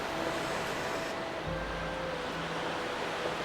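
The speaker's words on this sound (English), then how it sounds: "I could hear the waves beating on the rocks below." Ocean waves beat against rocks below a clifftop path on a cold night, heard as a steady, rushing wash of surf that is moderately distant and continuous, with no voices.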